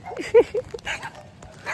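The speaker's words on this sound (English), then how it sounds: "all these dogs are barking at me." Small dogs, one of them a tiny dog wearing a diaper, give a few short, high yips and barks during a nature walk, fairly close and spaced out over a soft outdoor background.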